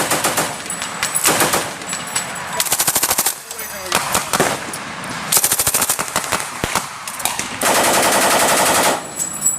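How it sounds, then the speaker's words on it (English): Machine guns firing blank rounds during a military exercise with British airborne infantry, loud repeated bursts of rapid automatic fire with brief pauses and one longer sustained burst near the end. "So again, blank rounds, so they're not going to be as loud as the real rounds."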